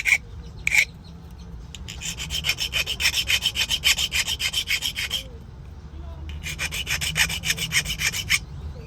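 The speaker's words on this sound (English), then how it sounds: "get your hand file, and essentially you want to have one side good, one side bad, is you want to break these corners" A hand file rasps against the corners of a 2002-2008 Honda blade key in quick, rhythmic back-and-forth strokes. There are two long bursts of scraping with a short pause between them, and a couple of sharp taps come first.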